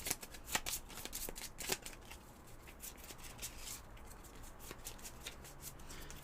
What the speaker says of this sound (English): So I've got to shuffle these roll cards up.